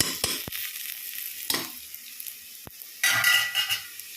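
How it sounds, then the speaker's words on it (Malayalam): Mutton sautéing with onions in a pan for a Kerala-style curry, with a hissing sizzle, sharp utensil clicks and scrapes, and a louder burst of frying near the end, close up and without speech. "മട്ടൻ ഈ സവാളയിൽ കടന്നിട്ട് ഒന്ന് വഴന്ന് വരണം."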